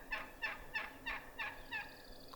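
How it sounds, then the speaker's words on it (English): A Merriam's turkey gobbler lets out a broken, muted gobble: five or six quick, evenly spaced rattling bursts, fairly near and moderately loud with no other sounds. "like almost muted gobble."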